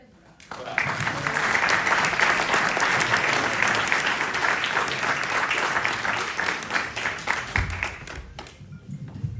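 Audience at a book presentation of the novel "Luna di sangue" breaks into applause after a reading, starting abruptly, holding strong and dense for several seconds, then easing off near the end.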